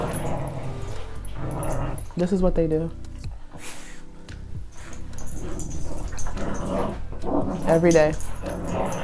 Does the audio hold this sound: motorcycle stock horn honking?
no